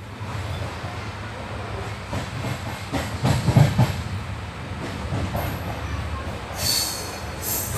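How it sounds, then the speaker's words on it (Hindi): A train pulls out of Kolayat railway station on the Lalgarh–Phalodi line, a steady rolling rumble with brief wheel squeals and hissing, ending in a sharp high screech. "हमारी ट्रेन निकल चुकी है कोलायत से"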